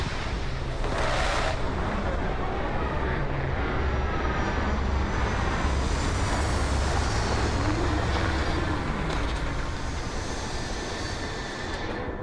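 A spaceship engine roars steadily during a landing in the Starfield video game, a loud, dense, continuous rumble with hissing thrust lasting throughout, with no break or pause.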